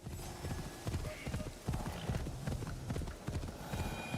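Horse hooves galloping in the Assassin's Creed Shadows video game, a steady rapid clip-clop rhythm running throughout at moderate loudness, with faint background game sounds.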